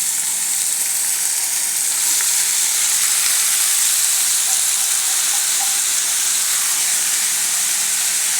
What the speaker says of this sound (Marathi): आता आपण हा जो चिरलेला पालक आहे तेल गरम झालं की त्याच्यात घालायचं आहे